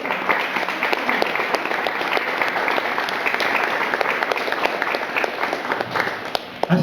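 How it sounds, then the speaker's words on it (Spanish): A church congregation breaks into sustained applause, dense continuous clapping from many hands filling the room at a steady, fairly loud level. "¿Cuánto le dan un aplauso al Señor?"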